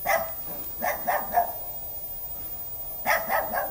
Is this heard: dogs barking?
yes